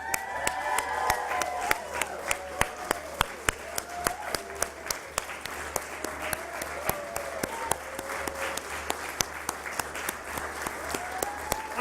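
An audience in a hall claps loudly and steadily at a financial education event, with dense continuous applause, sharp individual claps, and scattered cheers and voices mixed in.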